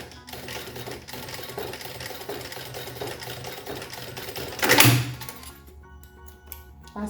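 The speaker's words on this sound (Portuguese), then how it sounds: "eu vou passar aqui uma costura para prender" Sewing machine stitching down a folded fabric strap for a lunch bag, a steady rapid mechanical whir and clatter of needle strokes, nearby and continuous, with a brief louder thunk before it stops.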